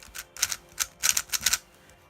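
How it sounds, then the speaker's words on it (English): A Rubik's GAN speedcube is turned in quick bursts, giving a cluster of sharp, clacky plastic clicks up close, with short gaps between the turning flurries. "This is very, very smooth, and it's a little bit clacky."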